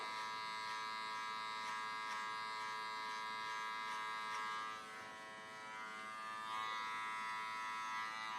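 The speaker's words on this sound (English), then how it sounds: "going to close the clipper and just come through the bottom, flick it out" Electric hair clippers buzz steadily at close range during a home haircut, a continuous high whine with a slight dip in level midway as they pass through hair.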